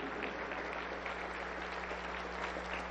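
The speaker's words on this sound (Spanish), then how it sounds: "Aplauso para el Señor Jesús" A church congregation at a Pentecostal service claps together in a dense, steady round of applause that fills the room evenly from start to finish, with no voices standing out.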